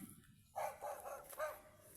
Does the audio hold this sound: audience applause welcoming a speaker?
no